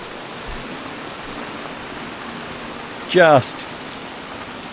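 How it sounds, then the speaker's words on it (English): Heavy rain pours steadily onto a boat deck, a constant close hiss of drops throughout, with one brief spoken word near the end. "Another day on the boat, pissing down with rain."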